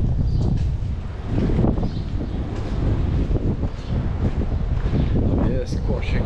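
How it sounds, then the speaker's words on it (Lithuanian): Strong wind gusts outdoors on a hike near Mažeikiai, Lithuania, heard as steady, loud, rumbling buffeting over the microphone, with a person talking through it. "Vėjas košia kiaurai."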